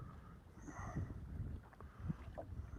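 Wind blowing across Lake Morena during hot-weather bass fishing from a boat, a low continuous rumble with mic buffeting and faint water sounds, close and moderately loud.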